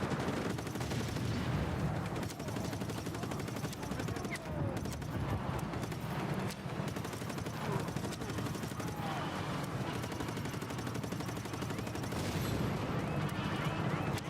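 Ground fire rattles through a video game battle as a steady wash of distant gunshots and fusillade crackle, layered under continuous background noise with a voice talking over it.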